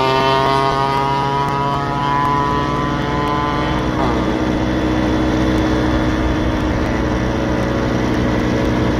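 Vespa PK 50 S Elestart scooter with a 130 DR kit riding on the road at a steady speed, a continuous buzzing two-stroke drone that holds an even pitch throughout.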